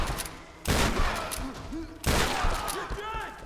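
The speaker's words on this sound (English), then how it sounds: "shotgun doesn't exactly kill a guy at range, but up close, it's lethal enough" Two loud shotgun blasts in the video game Tomb Raider, each a sharp boom with a ringing tail, spaced about a second and a half apart, with faint game voices between them.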